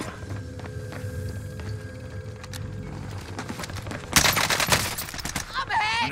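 Gunfire in Call of Duty: Modern Warfare on Rebirth Island, with an MP5 in use: a steady low battle rumble, then a loud burst of rapid shots around the fourth second and more scattered firing near the end.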